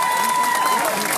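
Clapping from a crowd at a political rally in Jirabad, Dhar, Madhya Pradesh, a brief, steady and fairly subdued patter of hands with no break.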